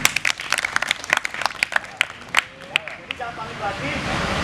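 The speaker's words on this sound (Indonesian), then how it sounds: "Tepuk tangan loh." Participants at a home fire-handling training session clap in a loose, uneven burst of sharp individual claps, close by, before it settles into a softer background wash.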